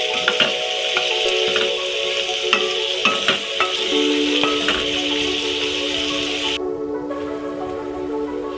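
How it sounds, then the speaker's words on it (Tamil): Tomatoes sautéing in a pan for a chutney made without onion or garlic, a steady close sizzle with scattered stirring clicks and scrapes, the frying hiss continuing alone after the stirring stops near the end. "இப்போ நம்ம அடுப்பை கொஞ்சம் ஐஸ் மீனில் வச்சு தக்காளி நல்லா வதக்கிக்கலாம்"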